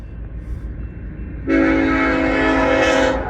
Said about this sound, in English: And a train coming.